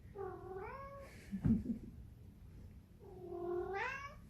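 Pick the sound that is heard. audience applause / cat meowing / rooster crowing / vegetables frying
cat meowing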